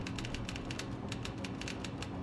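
A character typing on a typewriter in the Wolfenstein II video game, a quick run of crisp, evenly spaced mechanical key strikes with a brief pause midway, close and clear over low ambience.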